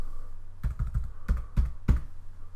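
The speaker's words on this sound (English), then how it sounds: "we go in here and we try and type in just a 7-digit number" A few short bursts of keystrokes on a computer keyboard as a number is entered, with distinct clicky taps in small clusters over a low steady hum, close and clear.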